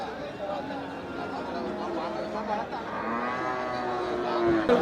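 Cows moo repeatedly at the Melapalayam cattle market, long drawn-out calls rising over a busy crowd murmur, with people chattering throughout.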